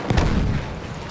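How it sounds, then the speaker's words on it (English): A single loud, booming gunshot from Battlefield 1 rings out close by, its heavy report and rumbling tail fading over about a second. "scouts trying to shoot me"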